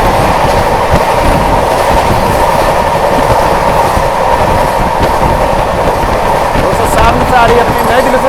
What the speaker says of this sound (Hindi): आ रही है अपनी नई दिल्ली से चलकर हावड़ा को जाने वाली पूर्वा एक्सप्रेस वाया गया।